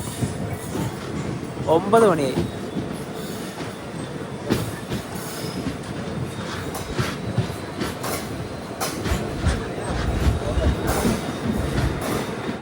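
A train from Madurai rolls into Ramanathapuram station with a heavy rumble and clattering wheels, a brief high squeal early on, and a person talking over the noise.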